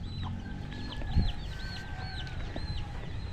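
Chickens in a farmyard near a nesting spot cluck steadily, with several birds calling in repeated short, rising notes over a constant low background rumble.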